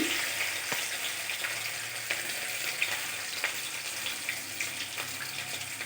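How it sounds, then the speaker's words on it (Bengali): Chopped garlic hits hot oil already seasoned with bay leaf, dried chilli, cardamom, cinnamon and black cumin, a continuous bright sizzle with faint spoon taps and stirring, no talking. "দিয়ে দিলাম কুচানো রসুন"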